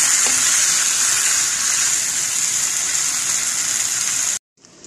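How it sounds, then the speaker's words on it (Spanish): Water poured into a pan of beef round simmering in red sauce, a steady loud gushing hiss that runs unbroken for about four seconds and then cuts off, leaving a faint quieter tail. "ahora le puse un poquito de agua"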